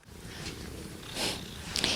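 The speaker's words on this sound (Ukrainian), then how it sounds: "Муркотить." A cat at an animal shelter purrs close by, a soft, steady low rumble that runs through the whole moment with a few faint rustles and no talking.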